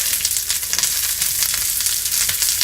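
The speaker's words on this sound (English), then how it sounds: "and we have to stir fry this" Sliced onions and carrots stir-frying in a hot pan over high heat, a loud dense crackling sizzle with brief stirring scrapes, steady and close with no talk.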